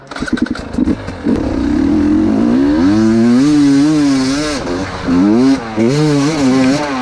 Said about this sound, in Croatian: Sad ćemo probati njegov sadašnji motor, isto gaz gas, ali novi Iza je Moose i Jack the Gripper X Grip guma.